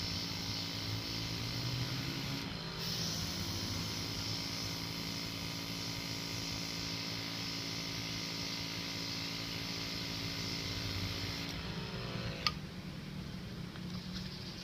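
A Hobby Mio HM03 mini compressor running steadily at medium air pressure, giving a continuous, fairly quiet hiss and hum with brief shifts in tone near the start and toward the end.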